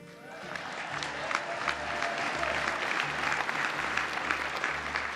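Audience at a formal dinner applauding Joe Biden's joke, sustained dense clapping over a low rhythmic music bed, with faint murmuring voices underneath.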